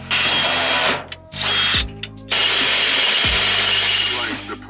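A power drill with a slightly larger bit bores during a trailer winch install, loud whining bursts stopping and restarting several times, with brief pauses between runs.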